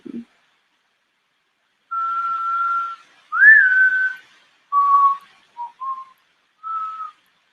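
A person whistles to get a pet's attention: several short, clear whistled notes with pauses between them, including one rising note, in an otherwise quiet room.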